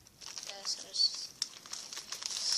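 Scissors snipping open packaging for a hair dye head wrap: quiet crinkling plastic and a few sharp cuts and rustles, close to the microphone, with no talk.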